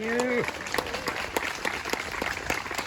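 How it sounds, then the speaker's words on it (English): At a statue unveiling, an audience breaks into scattered, fairly sparse clapping right after a short spoken phrase, with distinct individual claps at moderate distance. "Let's have a round of applause for all of those guys"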